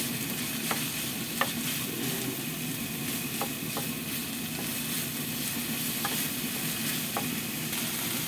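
Potatoes frying with sautéed ground meat in a pan, a continuous close sizzle with scattered clicks and scrapes of stirring throughout, no voices.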